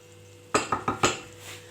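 Tomatoes and onions being stirred in a cooking pot, four quick scraping clinks of a utensil against the pot over a faint sizzle.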